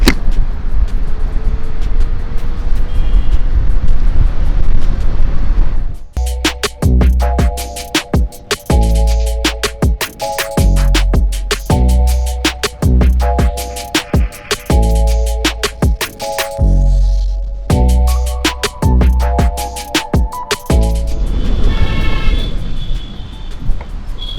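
An Okaya Faast F4 electric scooter is ridden flat out in its fastest mode, loud rushing wind buffeting throughout with rapid rhythmic ticking and whining tones through the middle stretch, no talk.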